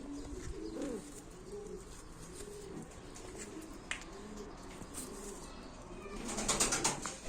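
Ankara performance pigeons coo in repeated low rolling phrases over soft ambient noise, with a burst of flapping wings near the end.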